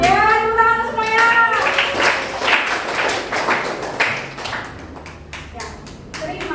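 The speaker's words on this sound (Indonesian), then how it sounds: "Ya, tepuk tangan semuanya." A classroom of students claps together during a lesson, sharp, loud, rapid hand claps that start after a voice speaks and continue for several seconds before thinning out.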